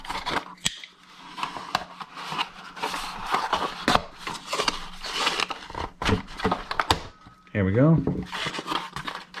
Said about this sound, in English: So I'm gonna cut this right here.